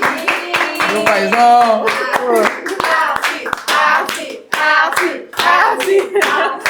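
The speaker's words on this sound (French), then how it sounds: "On applaudit pour monsieur Arsi de Gloire." An audience at a business dinner claps together, brisk overlapping handclaps under loud talking and voices, close and continuous.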